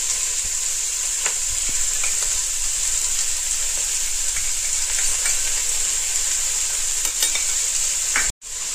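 Garlic and ginger paste sizzling loudly and steadily in a hot Healux pan for veg biryani, a dense continuous fry hiss with occasional stirring scrapes, close up, cutting out abruptly at the end.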